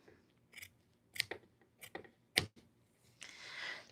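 Scissors cut fabric for a zipper pouch in several close, crisp snips at an uneven pace, ending in a soft rustle of cloth, with no voices.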